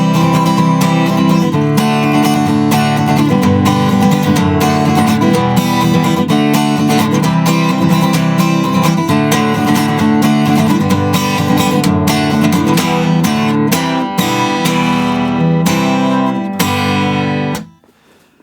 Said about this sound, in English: And then we've got a middle 8, which sounds like this.